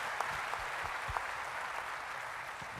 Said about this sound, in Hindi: एक बार जोरदार तालियां उस मैनेजमेंट के लिए होनी चाहिए।